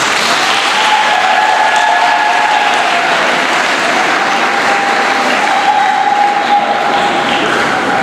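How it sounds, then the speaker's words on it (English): Loud, dense audience applause fills an awards ceremony hall for science olympiad students, steady and sustained throughout with no break. "So we give them a big round of applause for it."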